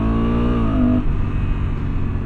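A Honda Africa Twin DCT motorcycle engine revs up loudly and close with a rising drone, then drops to a lower, rougher rumble as it settles.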